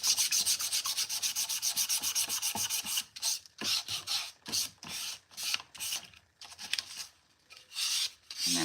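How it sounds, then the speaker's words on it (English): Hand sanding with sandpaper on a thrifted decor piece: close, loud rasping strokes, first a fast continuous scrub, then slower separate back-and-forth rubs with short pauses between them. "So now let me find my little sandpaper, and then we're just gonna sand this."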